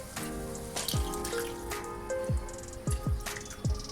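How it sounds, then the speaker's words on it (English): Boiled chickpeas with their cooking water poured into a pan of spiced tadka, heard as a series of wet plopping drops and splashes at irregular intervals, close and fairly quiet. "Now to this we'll add our boiled chole"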